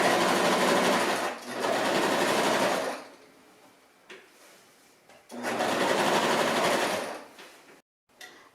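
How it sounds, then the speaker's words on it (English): A sewing machine stitches the seams of a decorative pillowcase in two distinct bursts of rapid, even whirring, separated by a pause with faint handling sounds. "Okay, I finished up sewing both sides, this side and the bottom."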